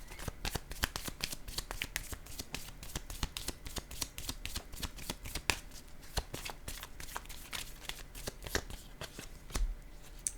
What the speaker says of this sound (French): Je vais aller poser une carte directement sur santé.